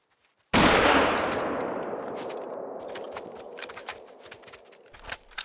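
A single loud rifle shot cracks out in the hunting video game theHunter: Call of the Wild. It rings off in a long, fading rumble, and a few faint clicks and knocks follow.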